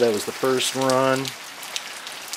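Light rain patters steadily outdoors as a soft, even hiss beside a covered Tesla coil, heard under a man's brief spoken remark and continuing alone afterward.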